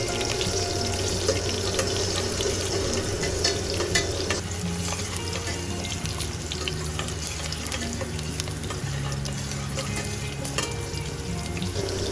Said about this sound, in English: let this fry nicely in the oil till it gets a nice brown coating on the outside